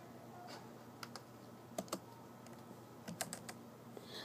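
Quiet, close typing on a computer keyboard, with scattered single keystrokes and small bursts of clicks over low room hum, without speech.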